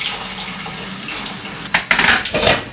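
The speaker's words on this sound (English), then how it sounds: "Then we're gonna add some water." Water from a tap runs into a cooking pot in a home kitchen, a soft steady trickle that turns into louder, uneven splashing and sloshing in the final second, heard close up.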